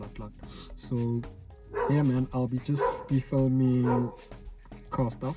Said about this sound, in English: Please don't mind that. That's my dog.